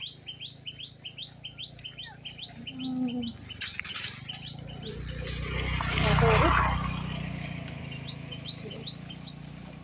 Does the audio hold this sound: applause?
no